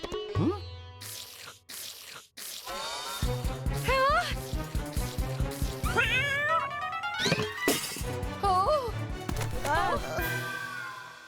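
A cat in an animated cartoon meows several times, drawn-out, rising and falling, mixed in with people talking nearby and a dull thunk early on.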